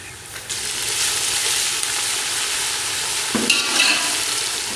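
Garlic-ginger paste sizzling with onions in hot oil for chicken aloo salan, a loud continuous fry with stirring scrapes and a sharper burst near the end.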